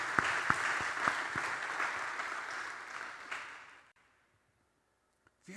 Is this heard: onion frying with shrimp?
no